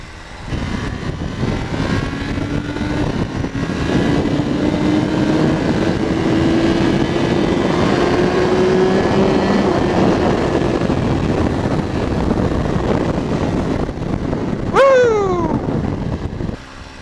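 A Suzuki GSX-R1000R motorcycle engine drones steadily as the bike accelerates, its pitch climbing slowly over many seconds before a sharp rising whine near the end, loud and close without talk.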